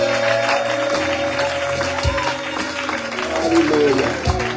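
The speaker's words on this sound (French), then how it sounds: "On peut acclamer le Seigneur." A church congregation acclaims and applauds the Lord, sustained crowd clapping and cheering mixed with music and voices, dense and even throughout with no clear pauses.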